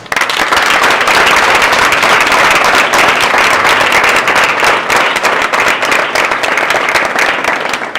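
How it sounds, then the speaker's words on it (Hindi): Loud, sustained applause from an indoor audience at a network marketing event, dense clapping filling the whole stretch with no break. "सभी अपने सम्मान में जोरदार ताली बजाएं"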